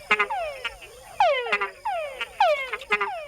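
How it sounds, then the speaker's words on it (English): Male frogs in the Panama wild give repeated chuck mating calls, a rhythmic series of short descending croaks and chucks in quick clusters, close and clear with no talking. "Male frogs make the added chuck sound to attract females."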